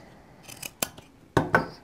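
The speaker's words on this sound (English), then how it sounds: "just take your scissors and cut off a little section of it." Scissors cutting a small swatch of upholstery fabric, a few crisp close snips with slight rustling in between, alone in a quiet room.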